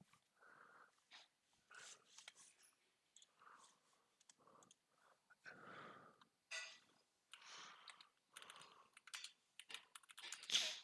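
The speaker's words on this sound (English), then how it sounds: "Just typing up." Someone types on a computer keyboard in quick, irregular bursts of clicking keys, fairly quiet and close, with short pauses between runs.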